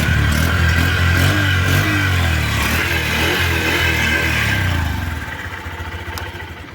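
A 2024 Honda Livo 110cc motorcycle engine starts and idles close by with a steady putter, then the running sound softens and drops in level near the end.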